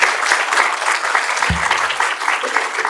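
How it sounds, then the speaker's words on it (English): A conference audience at a humanitarian leadership panel gives steady, dense applause that stays loud and even for about three seconds, with one low thump midway and no clear talking over it. "Round of applause, please."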